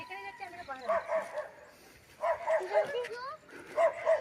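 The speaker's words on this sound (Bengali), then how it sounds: "এখানে অনেক ডগি আছে, খুব সুন্দর সুন্দর ডগি" Several dogs on a hill road near Takdah give short bursts of barks and yips in three clusters, fairly close, with people talking over and between them.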